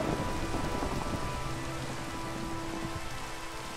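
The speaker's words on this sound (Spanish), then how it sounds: "¿Quieres que haga llover?" Steady rain pours in a video game world, a dense hiss of drops on surfaces with a faint low rumble like distant thunder, continuous and even throughout, fairly quiet and with no one speaking.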